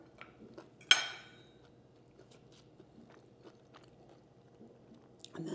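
A crisp bite into air-fried garlic bread, one sharp crunch near the start followed by soft, quiet chewing in a calm room with a faint background hum.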